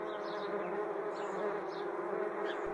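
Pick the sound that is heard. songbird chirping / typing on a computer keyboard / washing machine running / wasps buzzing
wasps buzzing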